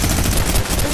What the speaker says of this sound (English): Bro, who's shooting me?